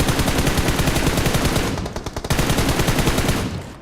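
Sustained rapid automatic gunfire from the mobile battle royale game BGMI (PUBG Mobile), loud and continuous with a brief stutter midway, then trailing off, with no voices over it.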